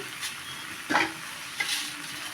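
Fried potato being mixed into pumpkin in a pan: a low sizzle with two quick scraping stirs of a spoon, close and brief.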